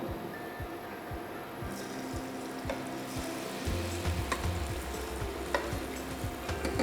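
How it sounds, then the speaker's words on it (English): Sweet potato falafel patties fry in hot oil with a continuous close sizzle, the bubbling swelling louder partway through, punctuated by faint clicks and taps and no speech. "let it fry for 3 to 5 minutes until it's golden brown"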